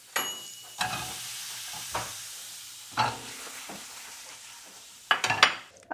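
Tomatoes cooking in a pan, with soft sizzling and intermittent stirring and clatter of a utensil against the pan, several separate scrapes and knocks spread across the stretch, close by and without talk.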